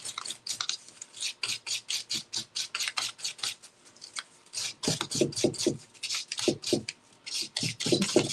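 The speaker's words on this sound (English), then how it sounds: "So I'm just gonna sand it, take some sandpaper to it." A bright painted craft piece is sanded by hand with sandpaper, giving quick, rhythmic rasping strokes, close and alone, that come a bit heavier and fuller in the second half.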